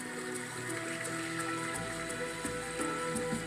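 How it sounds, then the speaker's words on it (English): Flood water flowing down a stream, the Pateti, as a flood head arrives, a steady broadband rush of moving water that holds continuous and fairly loud throughout, with a deeper low rumble entering partway through. "the stream gathers momentum."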